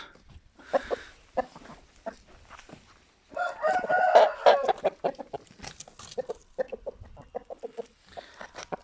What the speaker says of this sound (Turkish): Horoz güzeli bunlar.